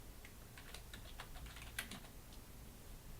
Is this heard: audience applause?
no